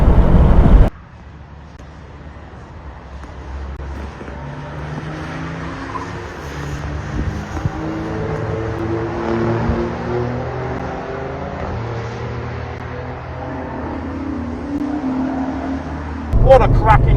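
A car at full throttle on Thruxton race track, heard from inside as the engine climbs through the revs in repeated rising sweeps with gear changes, loud and sustained, with brief voices at the start and end.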